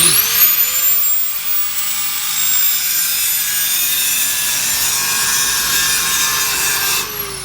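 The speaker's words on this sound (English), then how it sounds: "taking out the old ball joint" A high-pitched power tool grinds continuously through an old welded-in ball joint on a Dodge, loud and close, its whine dipping slightly at the start and holding steady for several seconds before cutting off.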